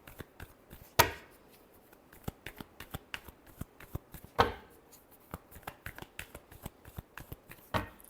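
Tarot cards being shuffled for a Libra reading, giving three sharp riffling bursts spaced a few seconds apart over soft, scattered card-handling ticks, close and fairly quiet.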